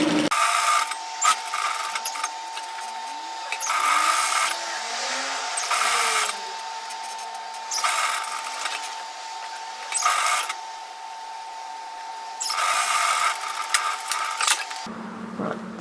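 A sewing machine edge stitches a messenger bag, running in short bursts forward and back to tack the seam, several separate whirring runs with brief pauses between, close up.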